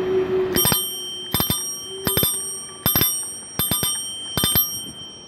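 A Citibike bicycle bell rung quickly in pairs of sharp double dings, about six bursts in five seconds, bright, metallic and close with quick decays.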